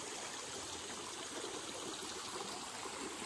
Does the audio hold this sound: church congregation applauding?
no